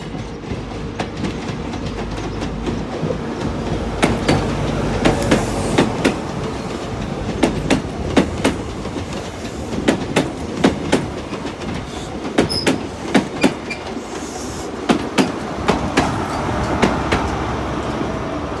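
Castle set HST train with power car 43004 Caerphilly Castle at Exeter St David's station rolls past close by, its wheels giving a continuous rumble broken by regular clickety-clack beats over rail joints.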